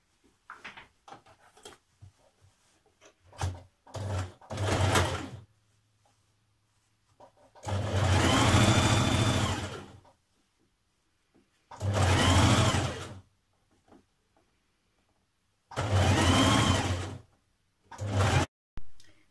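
A domestic sewing machine stitches the side seam of a dress bodice in several bursts, some short and a few longer steady runs, separated by quiet pauses and small clicks of handling.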